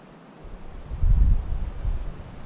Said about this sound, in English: A little bit windy, but that's okay.